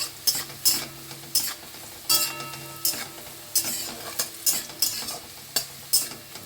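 Sliced onion frying in oil in a pan, a soft sizzle broken by repeated sharp scrapes and clinks of a spatula stirring at an irregular rhythm, close and alone without voices.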